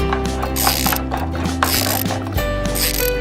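A toy screwdriver drives a screw into a Mickey Mouse dump truck construction toy, making a steady run of close plastic ratcheting clicks over a background of sustained musical tones.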